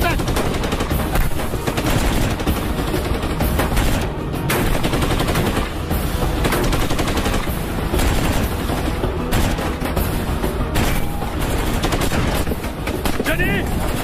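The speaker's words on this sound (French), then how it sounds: "c'est la mitrailleuse qui nous tire dessus" Sustained machine gun fire in a desert action film, loud and relentless rapid bursts filling the whole stretch, mixed with other battle noise and shouted voices.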